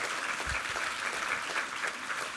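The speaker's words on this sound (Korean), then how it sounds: "우리 하나님께 감사와 영광의 박수 올려드리겠습니다" Sunday service congregation in a church applauding, a full continuous round of clapping from many hands that holds steady throughout, with no talk over it.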